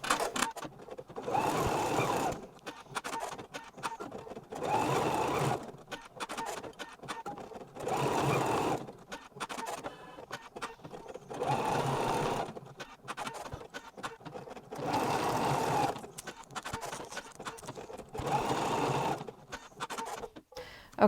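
A sewing machine stitching a placement stitch for berries on a sparkle tote bag runs in repeated bursts of rapid mechanical whirring, each a second or two long, separated by short quiet pauses across about twenty seconds.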